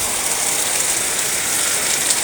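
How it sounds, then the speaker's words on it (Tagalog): Heavy rain falls steadily, a dense, even hiss of drops on surfaces that fills the whole moment at strong volume, with no breaks or voices. "Dito idol sa amin idol o sa amin so malakas ang ulan."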